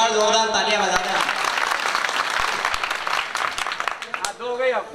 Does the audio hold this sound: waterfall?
no